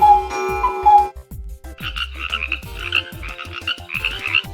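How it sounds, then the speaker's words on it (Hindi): A frog croaks in a string of loud, repeated rasping calls, close and continuous, following a short chime and ticking at the start. "और ये वाली आवाज मेंढक की।"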